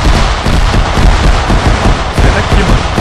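Dense, continuous gunfire in the video game Arma 3 crackles loudly without pause, layered with booming shots close by.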